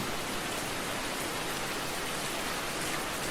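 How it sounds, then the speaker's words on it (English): Soft, steady rain falls as an even wash of hiss and patter on a rainy evening. It stays faint and uniform, with no other sound. "I can hear the rain grow louder,"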